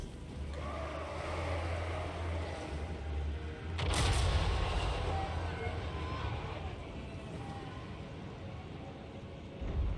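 Heavy Hell Cannon artillery fire in a Total War Warhammer battle: a low rumbling rolls through, then one loud blast near the four-second mark gives way to ongoing battle din, with someone talking over it.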